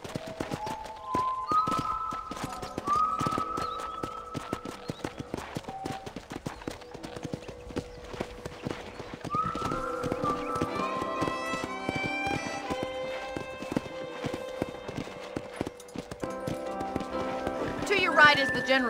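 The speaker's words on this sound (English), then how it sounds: "see if you can still ride a horse." A horse ridden in the Western game Red Dead Redemption clip-clops steadily with brisk, evenly spaced hoofbeats, close and clear, while characters talk over it and a melodic score plays in the background.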